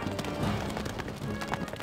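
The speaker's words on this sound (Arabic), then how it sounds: "الحصان سريع" Rapid, rhythmic hoofbeats of a galloping horse in the video game Stronghold Crusader, close and continuous, with faint voice-like sounds underneath.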